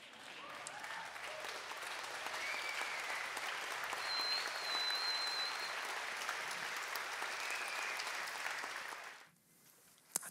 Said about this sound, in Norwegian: sier en kjempestor klapp for hele koret